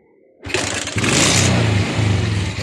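A Suzuki Raider J motorcycle with a freshly cleaned carburetor fires up after a brief quiet moment, then revs loudly and settles into a rough, slightly uneven running note nearby.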